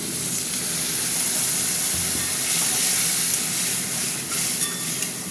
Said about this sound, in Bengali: সামান্য একটু জল দিয়ে মশলাটা কষবো